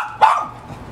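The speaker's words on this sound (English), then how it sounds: "right now she's doing a high-pitched bark" A dog gives a single high-pitched, playful bark while chasing a squirrel outdoors, a sharp close yelp that quickly fades.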